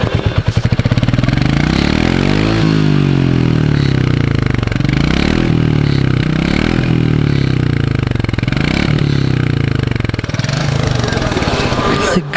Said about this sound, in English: which one did you like, the Meteor 350 or the classic 350. Which exhaust note did move your soul?